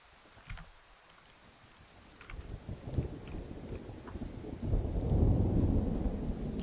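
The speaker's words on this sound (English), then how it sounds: "Lots of thunder, but there's no rain." Distant rolling thunder in the video game Firewatch, starting faint and building into a deep, sustained low rumble that swells louder toward the end, with no rain audible.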